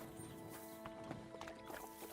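Horse hooves clip-clop at a steady gait in Kingdom Come: Deliverance II, faint and a little distant, over quiet ambient game sound.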